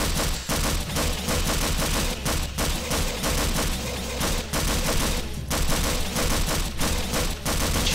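Gunfire in the video game Half-Life 2D: rapid, continuous automatic shots in a dense, loud barrage lasting the whole stretch, with no talk over it.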